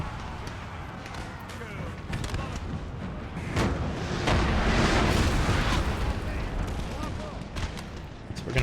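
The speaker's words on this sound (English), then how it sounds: "Firing through the tree line, opening up on the British as the battle for London commences" Musket volleys from skirmishers firing through a tree line in the Napoleon Total War battle for London, heavy rolling gunfire swelling to a dense crackling barrage in the middle, with a voice talking over it.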